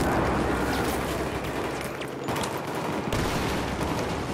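A heavy Battlefield 4 firefight on PS4 with grenades thrown in: dense volleys of gunfire and booming blasts, loud and close, with a short lull midway before the shooting resumes.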